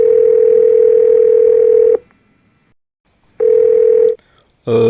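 A telephone dial tone hums loud and steady for two seconds, cuts to silence, returns briefly, then stops again before another tone begins at the very end.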